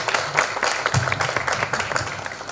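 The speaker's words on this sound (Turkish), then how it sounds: "Efendim değerli saz arkadaşlarımızı biz alkışlıyoruz." An audience applauds the musicians of a Turkish classical music choir at a municipal concert, a dense, uneven clapping that continues throughout.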